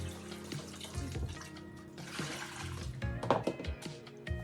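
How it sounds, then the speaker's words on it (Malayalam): Running water from a kitchen tap rinses fresh raw beef in a bowl, a steady splashing flow with clattering surges as the meat is handled, close and fairly loud throughout. "ഈ ബീഫെല്ലാം കഴുകി വാരി ഒരു പാത്രത്തിലാക്കി"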